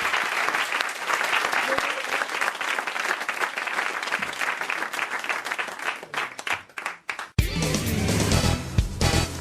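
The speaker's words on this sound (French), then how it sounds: "On vous applaudit quand même" Studio audience applauds loudly and steadily on a French radio-TV comedy quiz show, the clapping thinning briefly before a sudden louder burst of mixed noise and cheering near the end.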